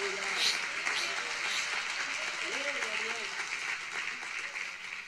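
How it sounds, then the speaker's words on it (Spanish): A church congregation applauds God during a service, a fairly soft, steady patter of clapping while voices murmur and speak over it. "¿Cuánto un aplauso a Dios porque Él es bueno?"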